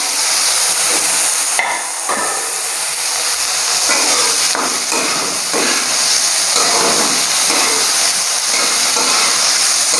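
Tomatoes go into a hot pan of lightly browned ingredients for egg prawn fried rice, and a loud, steady sizzle and hiss of frying continues throughout, with occasional stirring scrapes.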